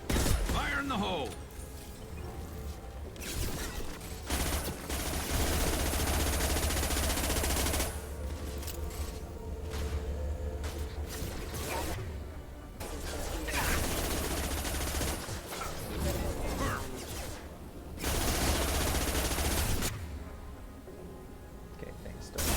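Gunfire in Mass Effect 2 Legendary Edition, long bursts of rapid automatic fire that start and stop in several loud stretches, mixed with game noise and occasional voices.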